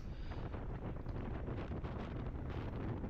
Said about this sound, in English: we were just fighting the wind, as you can see here